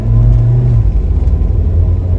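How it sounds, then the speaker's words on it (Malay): A Perodua Aruz AV car engine hums with a low steady rumble, heard up close from inside the vehicle during a test drive. "Okay, ni baru bunyi enjin."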